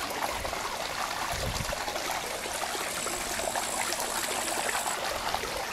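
A small stream trickles steadily into a pool at a country cottage, a continuous soft wash of running water with no voices.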